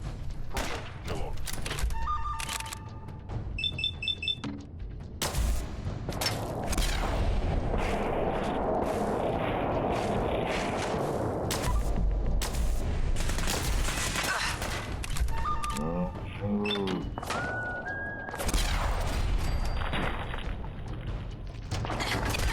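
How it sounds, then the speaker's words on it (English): Fallout 4 combat with a grenade explosion and gunfire: dense bursts of shots and heavy booms rolling through, interspersed with electronic interface beeps and tones, and a voice speaking partway through. "I saw a grenade thing go out."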